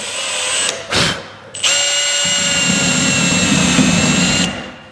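A power drill whirs loudly in close-up, a short burst, a brief pause, then a longer sustained run that winds down at the end.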